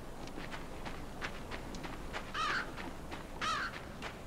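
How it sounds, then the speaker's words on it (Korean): A crow in a video game gives two distinct harsh caws about a second apart, over a steady backdrop of soft rustling and footstep-like clicks. "이 까마귀가 저를 도발하고 있는데"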